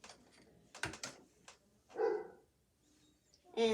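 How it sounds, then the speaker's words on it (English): A pet dog barks several times indoors during a home sewing session, a quick cluster of sharp barks followed by two louder, fuller woofs, moderately close with no talk over them. "He's our dog. I'm not sure what he's barking at."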